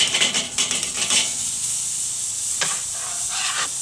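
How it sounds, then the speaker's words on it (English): Burger patties sizzle as they land over the direct heat of a grill, giving a sharp steady hiss with a few crackling pops that soon settles into a softer continuous sizzle. "what I'm going to do is put on my burgers"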